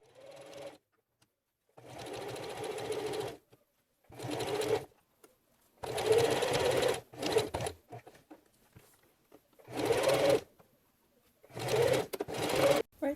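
A sewing machine stitching a dog coat made from a Simplicity 8538 pattern runs in about six close, loud bursts of rapid stitching, with short quiet pauses between them.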